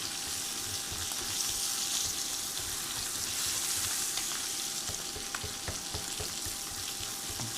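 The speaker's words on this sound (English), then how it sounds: "pork steaks, garlic, olive oil, fried, pan fried in a skillet" Pork steaks with garlic and olive oil sizzle in a cast iron skillet on an induction burner, a steady close frying hiss with occasional pops and crackles and no talking.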